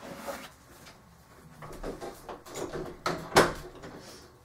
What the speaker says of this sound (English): I want to close my craft room door real quick.